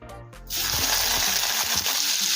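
Soya chunks dropped into hot salted oil in a pan for a Bengali vegetarian curry, with a sudden loud sizzle and gush after a brief clatter, steady and close with no talking.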